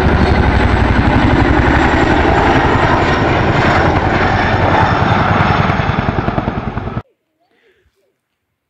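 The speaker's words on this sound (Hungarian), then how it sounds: "Jött egy katonai helikopter" A military helicopter flies overhead, its loud, steady rotor thump and engine roar dominating for about seven seconds before cutting off abruptly into silence.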